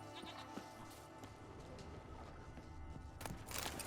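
A goat bleats in the video game The Witcher 3, a few short wavering calls heard at moderate distance over a busy background of ambient game sound.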